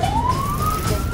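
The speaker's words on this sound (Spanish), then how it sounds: "Se enciende nuevamente la circulina de nuestra ambulancia y nos dirigimos deprisa, sorteando el caótico tráfico limeño" Ambulance siren wailing in Lima traffic, a loud, steady tone sweeping upward over about a second above the rumble of the vehicle and surrounding cars.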